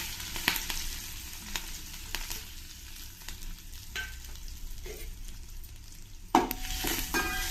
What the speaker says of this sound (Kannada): ಹಸಿರು ಮೆಣಸಿನ್ಕಾಯಿ ಎಣ್ಣೆಯಲ್ಲಿ ಚೆನ್ನಾಗಿ ಫ್ರೈ ಆದರೆ ಚೆನ್ನಾಗಿರುತ್ತೆ